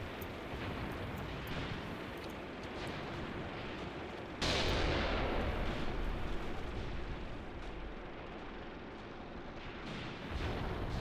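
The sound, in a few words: artillery fire in video game Graviteam Tactics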